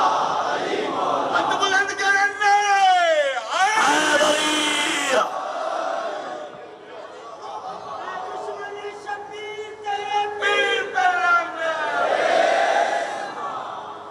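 Crowd at a Shia majlis-e-aza mourning gathering in Talhar chanting religious slogans, loud massed voices rising in repeated call-and-response waves with brief bursts of shouting throughout.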